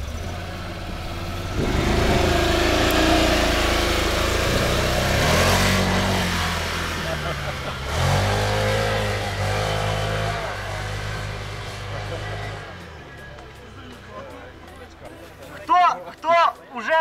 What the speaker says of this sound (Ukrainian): Давай, Мишаня, газуй.